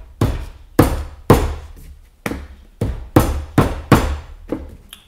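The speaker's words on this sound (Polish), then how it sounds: "Młotek w rękę i zobaczymy." Ten sharp hammer blows drive a tight wooden through dovetail joint together, struck at an uneven, deliberate pace, each a loud close thud with a short decay and no voices.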